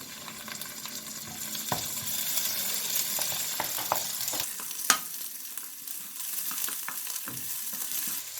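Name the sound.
onion, garlic and ginger paste frying in a pan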